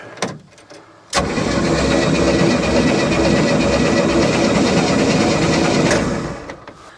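A 120hp Mercruiser engine on a 1967 Starcraft Holiday boat cranks over briefly and then catches. It settles into a loud, steady rumbling run that lasts several seconds before winding down, with no talking.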